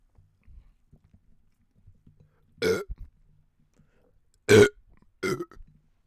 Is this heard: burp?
yes